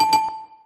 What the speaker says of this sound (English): You can ring a bell for that one.